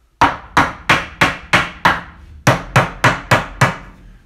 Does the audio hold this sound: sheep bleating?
no